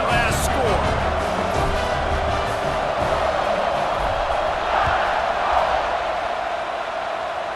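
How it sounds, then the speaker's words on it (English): Stadium crowd in the EA Sports College Football 26 video game buzzes with a steady roar after a score, with a few early whoops and cheers, loud and continuous throughout. "this crowd is buzzing after that last score"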